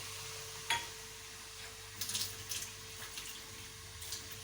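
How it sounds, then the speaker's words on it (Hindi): A little water goes into a cooking pan with frying ginger and garlic for a fish korma, a few faint splashes and drips with a soft clink over a quiet background hum, no talking. "ऐं थोरो पाणी बि विझूं था।"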